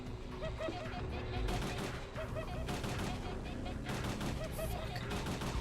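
Enemy shooting in Parasite Eve 2 forms a dense, continuous barrage of rapid gunfire-like bursts over game noise, loud and sustained with brief rhythmic pops throughout.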